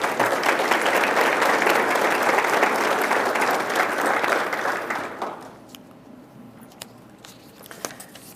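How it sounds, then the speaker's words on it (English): An audience at a city's State of the City address claps loudly in steady, dense applause for about five seconds. It then fades to scattered, quieter claps and a few faint noises. "I'd like you to give them a round of applause."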